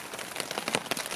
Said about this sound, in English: It's been raining since 8 o'clock this morning